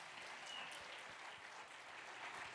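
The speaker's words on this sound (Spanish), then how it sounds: "Un aplauso, chicos, para el que dijo amén." Students at a conference give a round of applause, a steady, continuous wash of clapping from a crowd with no voices over it, lasting the whole moment at even intensity.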